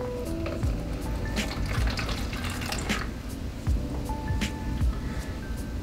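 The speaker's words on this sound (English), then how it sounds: "I'm going to pour the exact volume" Liquid pours steadily into a mixing container sitting on a level kitchen scale, a soft continuous trickle with small splashes and gurgles, close by and fairly quiet throughout.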